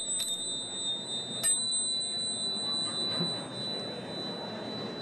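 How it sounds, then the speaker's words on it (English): Tibetan prayer chimes struck in a conference hall to call attention, two bright metallic rings with sustained shimmering tones that fade over a low murmur of room noise. "Some of you will have heard the Tibetan prayer chimes to bring your attention."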